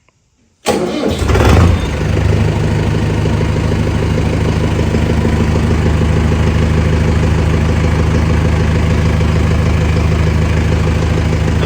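A tractor engine in neutral cranks briefly, then catches and settles into a loud, steady, close-up idle that holds for the rest of the clip.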